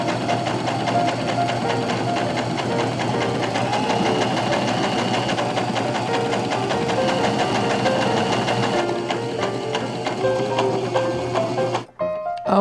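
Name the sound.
sewing machine sewing a straight seam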